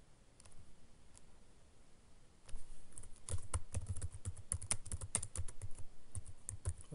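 Typing on a computer keyboard, quiet close-up key clicks, sparse at first and then quicker bursts of keystrokes, with no one talking.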